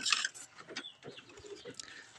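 Backyard chickens clucking softly nearby while being fed, a few short scattered clucks and squawks with no talking.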